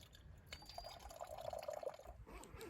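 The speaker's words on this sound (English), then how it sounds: "I've just got a 2 litre bottle here that I'm just going to decant from the B3 into here just for storage." Water pours from a water carrier into a 2-litre bottle at a wild camp, a soft, close gurgling trickle that rises in pitch as the bottle fills, then stops.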